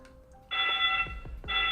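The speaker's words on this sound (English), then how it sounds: "Oh, my fire alarm's going off." A home fire alarm going off, a sudden loud, steady high-pitched electronic tone that starts abruptly, breaks briefly and resumes, with faint low thumps beneath and no talking.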